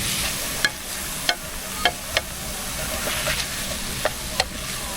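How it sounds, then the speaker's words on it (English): Water deglazing a hot pan of browned mushrooms, giving a steady, loud sizzle and hiss broken by several sharp scrapes as the bottom is stirred, close up, with no speech. "That's gonna deglaze the bottom, get all those good brown bits off of the bottom."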